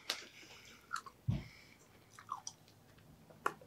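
Someone chewing an old, soft, stale snack that has gone limp, with scattered moist mouth sounds and a few dull bites close to the microphone and no crunch, no talking.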